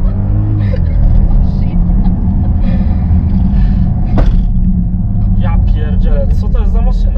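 Jeep Grand Cherokee SRT with a roughly 500-horsepower V8, driving as a steady loud low engine and road rumble inside the cabin, with people talking over it throughout.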